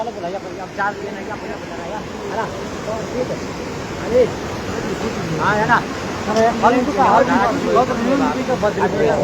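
Rushing floodwater after a cloudburst at Ghuttu in Uttarakhand, a broad steady roar running throughout while people talk loudly over it.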